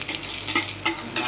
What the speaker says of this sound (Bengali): নাড়াচাড়া হচ্ছে